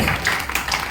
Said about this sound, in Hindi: जबरदस्त तालियां गीता दीदी के लिए